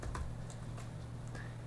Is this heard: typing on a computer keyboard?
yes